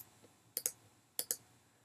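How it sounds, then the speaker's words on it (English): Sharp clicks of keys pressed on a computer keyboard while working in cabinet design software, two quick pairs of taps separated by a short pause, close and clear with no talking. "When I click on the letters on my keyboard"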